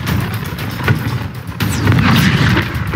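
Booming arm cannon blasts from the Injustice fighting game, heavy low rumbling bursts with crackling impacts layered over continuous battle noise, loud and dense for the whole stretch.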